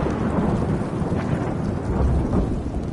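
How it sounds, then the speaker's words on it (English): Heavy in-game rain with rolling thunder in the horror game Stray Souls, a dense continuous roar of downpour and low rumbling, loud and without talk. "Yeah, it's starting to rain."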